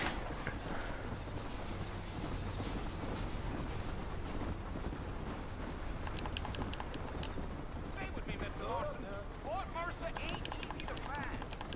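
A train in the Red Dead Redemption video game, a steady rumbling clatter along the rails mixed with horse hooves and game sounds, continuous throughout with people talking over it.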